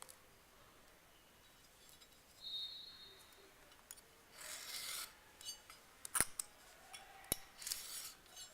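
Scissors or a razor knife cut out paper fins for a model skimmer, giving several brief, soft rasping snips at moderate distance with short pauses between them and no talking.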